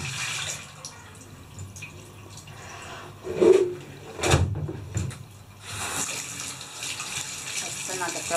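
A carpet being rinsed under running tap water, with a steady flow of water splashing and gurgling throughout and a few louder bursts of pouring midway.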